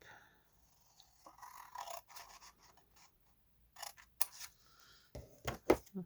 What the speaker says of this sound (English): cut this flap